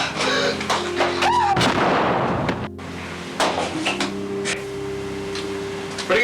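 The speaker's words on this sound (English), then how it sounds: "Great shooting, Brat." Gunshots ring out in quick succession, sharp loud bangs with a sustained rumble and echo between them, followed by further scattered reports.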